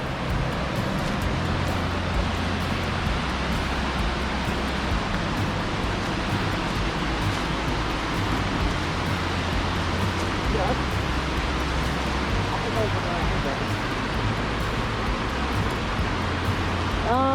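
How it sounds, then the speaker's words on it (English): Steady roar of Step Falls at Old Stone Fort State Park, Tennessee, broad and constant throughout, close and loud with no pauses; no clear speech over it. "Final waterfall here at Old Stone Fort"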